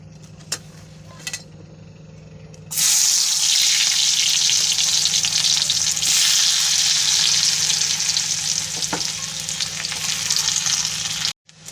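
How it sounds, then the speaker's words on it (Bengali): After a few quiet seconds with faint clicks, a loud, sudden hiss of onions hitting hot oil, sustained steady sizzling until an abrupt cut near the end. "এই তেলের উপরেই আমি দিয়ে দেবো পেঁয়াজ কুচি"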